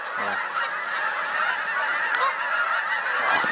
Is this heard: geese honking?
yes